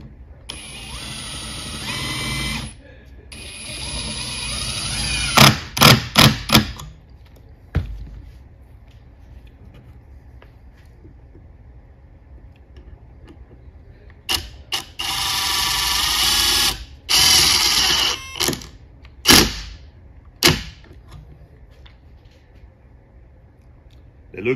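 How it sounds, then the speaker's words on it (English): Ridgid and Metabo HPT impact drivers on multivolt batteries drive screws into fresh wood with no pilot holes, giving several short loud bursts of rapid hammering whir between quieter stretches, with a voice talking briefly. "I'm gonna start these screws in fresh wood"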